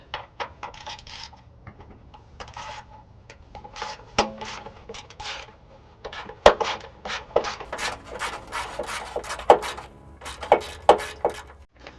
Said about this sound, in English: Next step, I'll need to remove the heat shield using a 10mm.